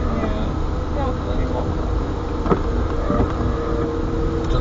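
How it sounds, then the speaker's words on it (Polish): A car engine runs steadily while driving, a low continuous rumble filling the background throughout, with faint cabin noises over it. "Słyszy Pani silnik?"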